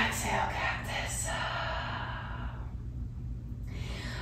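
A long, breathy exhale during a vinyasa yoga flow, soft and close, tapering off over a few seconds against a faint steady background hum.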